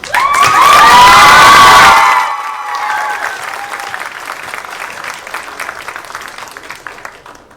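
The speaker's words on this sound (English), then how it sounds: "So round of applause for Ariana." An audience of families claps and cheers loudly at a fourth-grade winter school concert for a young solo singer, a bright burst with children's shouts that fades after about two seconds into softer, scattered clapping.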